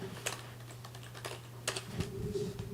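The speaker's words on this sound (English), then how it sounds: "Let me type something." Keys clatter on a computer keyboard in quick irregular bursts of close taps over a steady low hum, with no voices.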